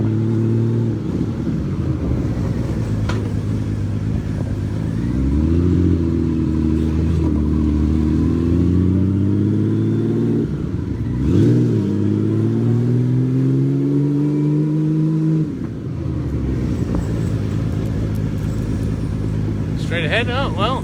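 A motorcycle rides through Tokyo streets, its engine note rising and falling as it accelerates and slows between gears, loud and close with wind noise, while a rider talks over it.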